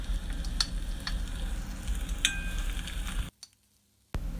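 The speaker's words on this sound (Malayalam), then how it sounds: "സവാള അരികിലേക്ക് മാറ്റി കൊടുത്തിട്ട് നമ്മൾ കുറച്ചുകൂടെ വെളിച്ചെണ്ണ ഒഴിച്ചിട്ട് അതിലേക്ക് തേങ്ങാക്കൊത്ത് ഇട്ടിട്ട് നല്ലോണം ഒന്ന് വറുത്തെടുക്കുകയാണ്" Quiet sizzling of coconut pieces frying in coconut oil beside onions, with a few sharp clicks and pops, then a sudden near-silent gap before the frying noise returns.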